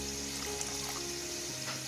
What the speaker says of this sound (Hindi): अब इसमें मैं ऐड करूंगी 1 टेबल स्पून के करीब पानी